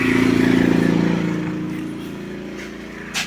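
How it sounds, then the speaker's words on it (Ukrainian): A Konner&Sohnen KSB 22i S inverter generator starts up in a garage, running at a steady buzzing hum that is loud at first and then eases to a quieter, even drone. "Все, запустив генератор."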